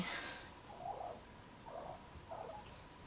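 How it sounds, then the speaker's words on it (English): Domestic cat purring close by in a quiet room, soft low rumbling pulses repeating roughly every second at a faint level. "You guys might be able to hear that. That's my mom's cat, Hook."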